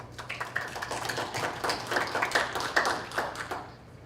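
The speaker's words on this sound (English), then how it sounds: "I want to applaud you" Audience clapping at a December school board meeting, a steady patter of many hands filling the room, holding fairly even before easing off at the end.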